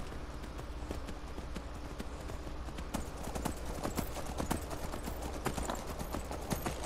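Horse hooves clip-clop steadily while riding through the open world of the video game Skyrim, a continuous rhythmic trot of close, moderately loud hoofbeats with no talking.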